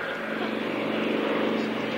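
At a 1994 warbirds airshow at Wroughton Airfield, a Spunkmeyer aircraft flies past with its landing gear down, giving a steady, droning, throbbing propeller-engine hum at moderate distance.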